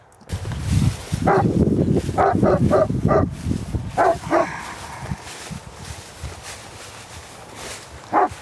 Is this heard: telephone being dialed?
no